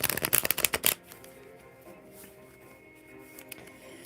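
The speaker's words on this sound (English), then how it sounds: "That was a clean shuffle, Kiki." Tarot cards are shuffled in a quick burst of crisp riffling flutters lasting about a second, then give way to quiet room tone with a few faint rustles.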